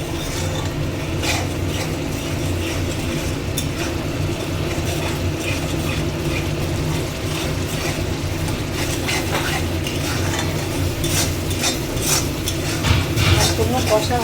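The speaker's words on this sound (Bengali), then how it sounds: "মশলাটা দেখো কি সুন্দর কষে অটোমেটিক তেলটা বেরিয়ে যাচ্ছে।" Masala sautéing in oil as it is stirred, a dense, steady sizzle with scraping and clattering strokes close by, underlying intermittent talk.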